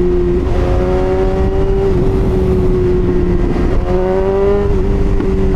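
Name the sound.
BMW S1000RR motorcycle with SC Project exhaust revving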